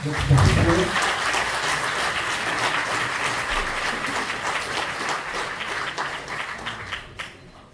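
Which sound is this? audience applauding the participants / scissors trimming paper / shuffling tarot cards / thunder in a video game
audience applauding the participants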